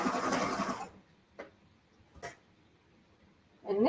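Home sewing machine stitching a ruffled skirt, a loud steady run of fast stitching at the start, then near silence with a couple of brief clicks and a short burst at the end.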